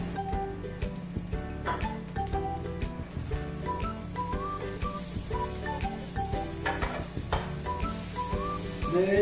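Onion and garlic sauté together in a pan, giving a soft sizzle under busy stirring scrapes and utensil clicks. The scraping is irregular and close-up, and the frying hiss stays quiet in the background.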